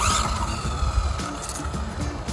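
A WLtoys 104072 RC car on a speed run across a wet autumn surface, its electric motor whining steadily with a constant drone and faint rumble throughout, close and fairly loud, with no talking.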